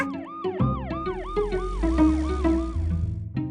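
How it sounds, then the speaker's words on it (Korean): A police car siren wails in rapid rising and falling sweeps, loud and close, over a low rumbling engine in a residential neighborhood, with no voices. "우리 동네 지키는 경찰차였구나."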